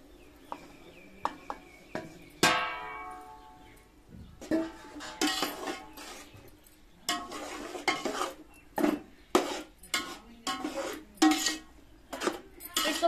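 Crumbled roti churi is tipped into melted ghee in a pot and stirred, giving a run of scraping, clinking spoon-against-metal strokes, irregular and fairly close, with a brief sizzle early on and no talking.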